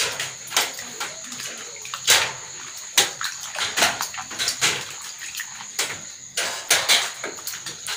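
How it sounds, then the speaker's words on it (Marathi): Fish being washed and cleaned by hand in water make irregular splashes, sloshes and clatters, a close series of uneven bursts over a quiet background. "आता मासे स्वच्छ करते आई माझी"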